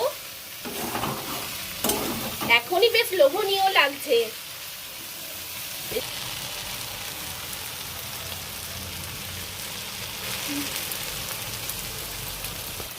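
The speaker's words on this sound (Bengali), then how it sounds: "তো বন্ধুরা দেখো কচু ফুলটা অনেকটাই ভাজা হয়ে গেছে, আমি আরো একটু ভাজা ভাজা করে নেব।" Taro (kochu) flowers fry in oil with a soft, steady sizzle throughout, while someone talks briefly near the start, followed by a few stirring knocks against the pan.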